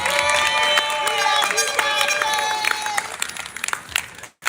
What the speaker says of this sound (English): could we please give her a round of applause?